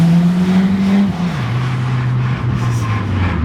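A big-turbo Chevy Cruze project car pulls hard under acceleration, a loud, steady engine drone climbing and shifting pitch in a couple of stepped changes, close and alone without any talk.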